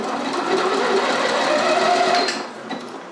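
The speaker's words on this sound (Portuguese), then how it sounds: "vou apertar o botão Start Stop ou então meu pedal, costurar alguns pontos segurando a linha" A Janome 1030MX sewing machine runs steadily for a few stitches with a continuous close motor whir, then slows and stops near the end.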